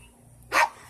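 A single short dog bark lands near the middle, fairly close and loud, against a quiet background with no talking.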